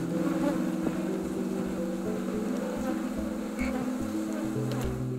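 Honeybees buzzing at an apiary, a dense continuous drone of many wings with steady overlapping hum tones, close and full throughout without pauses, with no voices.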